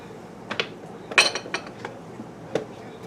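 A utensil clinks and scrapes against a pot while beef and noodles are stirred together, giving a few sharp metallic taps and short scrapes close by, alone with no talk.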